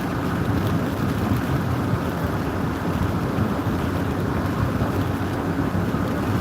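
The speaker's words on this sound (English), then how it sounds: "big wind and heavy rain up here though" Strong wind roars and heavy rain pours without a break during an Illinois thunderstorm, a dense, loud, continuous rush with no voices.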